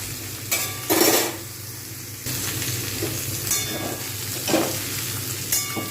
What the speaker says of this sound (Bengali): এইবারে আমি একটু নেড়ে নেব